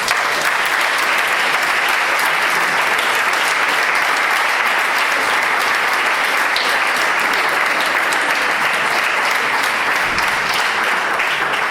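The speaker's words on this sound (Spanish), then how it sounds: "Os pido un aplauso para él." An audience at a university talk on drug discovery gives dense, steady applause that continues loud and even throughout.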